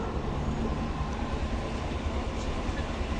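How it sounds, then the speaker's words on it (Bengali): Intercity Rupsa Express, hauled by locomotive 6550 with white PT Inka coaches, rolls into Alamdanga station as a steady, loud, continuous rumble of wheels and engine. "সাতশো সাতাশ রূপসা এক্সপ্রেস আলমডাঙ্গা আউটার প্রস্থান করে আলমডাঙ্গা স্টেশন প্রবেশ করবে"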